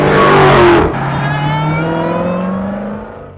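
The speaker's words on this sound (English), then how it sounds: "The whining of the supercharger combined with the groaning of the V8 and an obnoxiously loud exhaust" A loud, close 2023 Dodge Challenger Hellcat supercharged V8 revs high then drops, with a rising supercharger whine layered over the deep rumbling, very loud exhaust as it settles.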